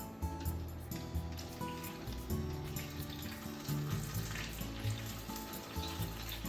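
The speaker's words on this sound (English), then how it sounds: "of vegetable oil to pan fry the bottom this time" Kimchi cheese gyoza sizzle and crackle steadily as their bottoms pan fry in vegetable oil. The close, even frying goes on alone with a few soft clinks.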